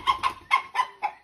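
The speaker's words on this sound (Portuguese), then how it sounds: "Essa galinha, mas faz parte da roça, né, gente? O barulho da galinha." A hen clucks on a small farm, five loud, close clucks in an even rhythm over about a second, with nothing else around them.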